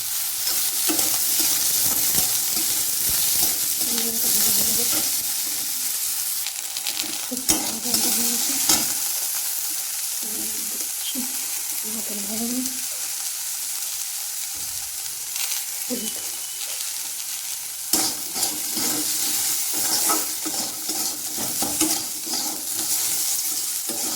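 Cut potatoes and eggplant fry in a pan, a steady loud sizzle running throughout while a utensil stirs and scrapes the pieces in repeated bursts.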